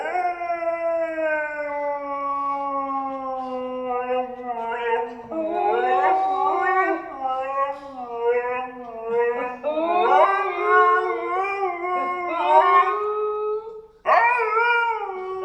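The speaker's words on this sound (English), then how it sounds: "But they are amazing dogs" Several dogs howl together in long, drawn-out wavering tones that overlap and rise and fall. The chorus is loud and close and keeps going almost without a break.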